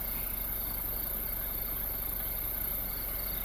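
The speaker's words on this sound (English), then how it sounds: "There's plenty of bugs." Crickets and other insects chirping at night in the bush, a continuous dense shrill drone holding steady throughout, moderately faint with no voices.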